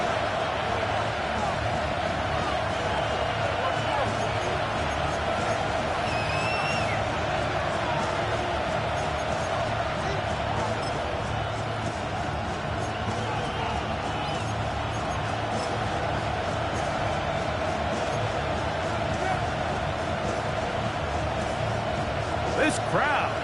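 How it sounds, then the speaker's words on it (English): Stadium crowd noise in an American football video game makes a continuous dense roar beneath an announcer's play-by-play commentary, holding steady throughout with little rise or fall. "This crowd into it now as we get to third down."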